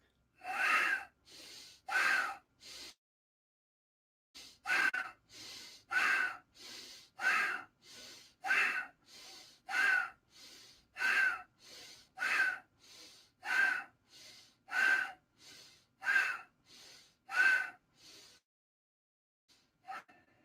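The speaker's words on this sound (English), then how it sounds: "Smoothly breathe in." Pranayama breathing exercise during a balancing practice: strong, rhythmic breaths drawn sharply through the nose. About twenty forceful, evenly spaced cycles are close and loud, with a short pause near the start and a fade at the end.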